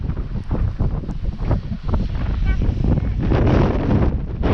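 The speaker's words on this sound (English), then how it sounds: "it was probably like a snowstorm happening or something because the wind was so heavy" Heavy wind from a snowstorm roars and buffets against the microphone in loud, surging gusts, rumbling steadily throughout with a few faint voices in the background.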